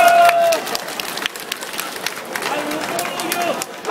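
A political rally crowd breaks into applause and cheering outdoors, scattered clapping swelling and fading across a few seconds, with an amplified voice and crowd murmur mixed in.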